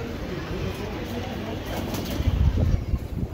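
Indian blood pigeons coo softly and steadily, with low throaty calls that swell louder toward the end, set against a constant background hiss.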